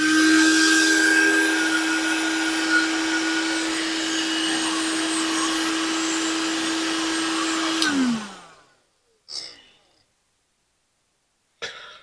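A heat gun blows a steady, loud whine with a constant tone onto solder wire connectors on a classic Mini wiring loom, then switches off and winds down, followed by two brief handling knocks in near silence.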